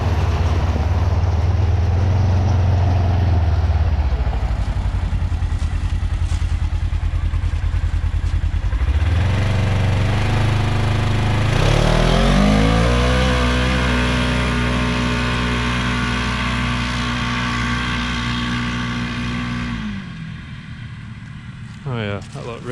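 A Polaris RZR off-road vehicle makes a pass, its engine revving hard and climbing in pitch with loud, sustained drive noise before tapering off near the end.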